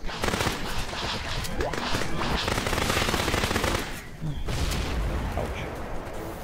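In the Dino Survival video game, missiles and heavy weapons fire in dense, continuous bursts of booming and rattling, loud and close, with a voice speaking over the barrage.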